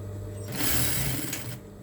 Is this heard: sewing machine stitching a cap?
yes